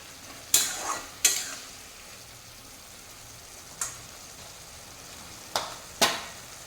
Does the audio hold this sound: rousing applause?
no